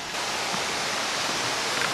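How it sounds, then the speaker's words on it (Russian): The Dzhur-Dzhur waterfall in Crimea roars as a loud, steady, broadband rush of falling water, heard close and continuous with no talking. "Вот он, водопад Жур-Жур."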